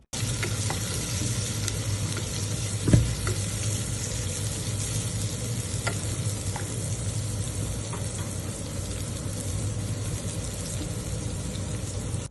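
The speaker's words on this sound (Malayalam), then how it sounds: "ഒരു ചെറിയ കഷ്ണം വലിയുള്ളിയും ഇതിലോട്ടിട്ട് ഇത് നന്നായി മൂപ്പിച്ചെടുത്തിട്ട്" Shallots and onion frying in a pan for a hotel-style beef fry, a steady close sizzle running throughout with occasional stirring clinks and one sharp knock near the start.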